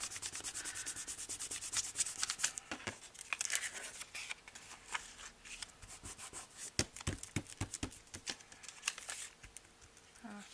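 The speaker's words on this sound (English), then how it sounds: "I need some book page to blot that with, because it came all the way through" A book page is rubbed and pressed against a paper card to blot off excess glue, giving steady close papery scrubbing and crinkling that turns into scattered rustles and taps.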